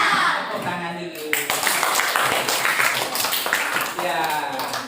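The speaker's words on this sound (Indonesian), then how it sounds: "Tepuk tangan dulu." Children in a classroom clap their hands together in a brief burst lasting a few seconds, mixed with a teacher's voice and kids' chatter over the clapping.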